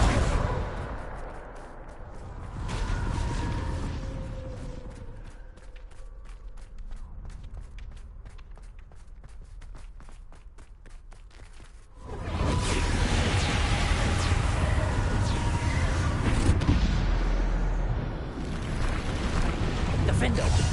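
Bombarda explosion spells go off in Hogwarts Legacy combat, loud broadband blasts rumbling over ongoing battle noise, with the heaviest continuous barrage in the later half.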